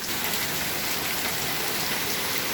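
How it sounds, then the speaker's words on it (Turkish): Heavy rain pours down in a dense, constant hiss that stays loud and even throughout, with no voices. "yağmurun o kadar güzel şiddetli yağışını göstereyim ki sizlere görün arkadaşlar"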